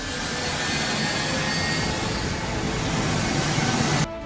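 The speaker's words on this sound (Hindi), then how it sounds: "जैसे ही ग्लोब मास्टर काबुल के रनवे पर टेक ऑफ के लिए रवाना हुआ" A US Air Force Globemaster jet on the Kabul runway gives off a loud, steady broadband engine roar that holds for about four seconds, then drops away abruptly at the end.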